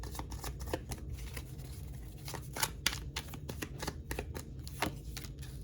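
Tarot cards are shuffled close up in soft, rapid riffles and papery flicks, repeating in quick bursts with brief pauses. Faint and alone, with no talk.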